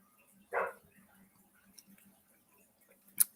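A dog gives one short bark, moderately distant, in an otherwise quiet home, followed by a few faint ticks and clicks.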